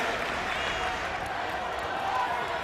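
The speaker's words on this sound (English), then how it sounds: "the crowd makes their noise heard early on" Hockey arena crowd at a college men's whiteout game between Oswego and Plattsburgh, a broad sustained roar of cheering right after the puck drop, under an announcer's commentary.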